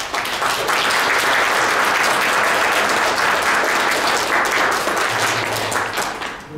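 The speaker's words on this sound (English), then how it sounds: "please give her a round of applause." Full audience applause after a faculty fellowship lecture, a dense, loud, sustained wash of clapping from a large crowd that carries on for over six seconds.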